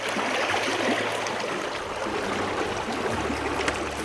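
The South Fork of the Snake River in eastern Idaho flowing, a loud, steady wash of rushing water with gurgling texture and a faint low engine-like hum underneath.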